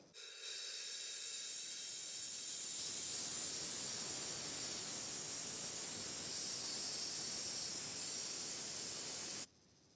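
A 3D printer cooling blower runs on shop air, giving a loud, steady, close hiss that starts abruptly, holds evenly for about nine seconds and cuts off sharply.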